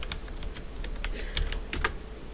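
Rapid, uneven keystrokes on a computer keyboard while entering a name into a D2L online course page, close and fairly quiet, with a few louder clustered taps near the end and no talking.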